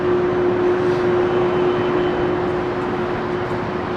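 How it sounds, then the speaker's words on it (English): Boeing 767 jet departing Heathrow runway 27R, a steady broadband roar with a sustained whining tone, loud and unbroken throughout, no talk. "Martin Organ, 767, old school noise, bring back the Trident."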